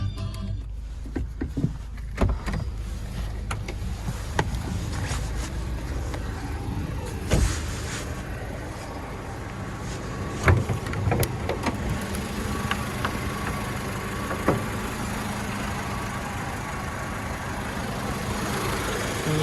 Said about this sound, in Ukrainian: Також з цієї сторони двигун працює рівненько